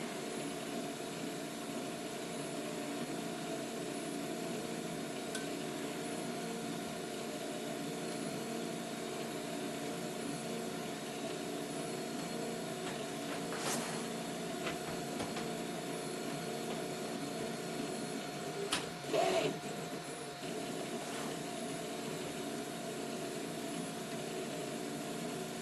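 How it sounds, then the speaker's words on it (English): An Up! Mini 3D printer lays down a raft, its print head and motors giving a steady quiet whirring hum throughout, with a few faint clicks and a brief louder rattle near the end. "You can see the print head printing the raft."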